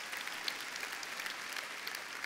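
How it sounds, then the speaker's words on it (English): Audience applause during a Shaklee Live keynote address, a sustained, fairly soft and distant patter of many hands from a large crowd, with no voices over it. "You should clap for that."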